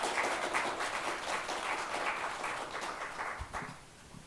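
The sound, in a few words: audience applause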